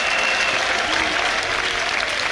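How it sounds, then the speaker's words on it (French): A church congregation gives a clap of praise to Jesus Christ during a worship conference gathering, a thick, sustained wash of many hands clapping together, loud and even throughout without speech on top. "Clap of praise to Jesus Christ."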